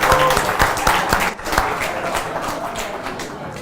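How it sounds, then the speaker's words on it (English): Applause and clapping from a conference audience in Tallinn, Estonia, welcoming a president onstage; a dense burst of hand claps with crowd noise fills the whole stretch, loud and steady with a brief dip midway, with some voices mixed in. "give a huge round of applause to Ora in order to welcome our president."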